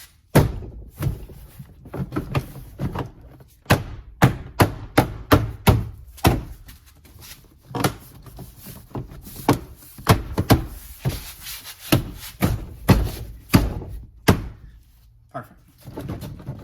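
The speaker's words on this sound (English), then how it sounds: "you can bang it downwards and it should pop into place" A door lock actuator in a 1990s GM Firebird or Camaro door is banged down into place, giving a long series of sharp, close thuds and knocks, some in quick bursts, with brief rubbing and handling noise between.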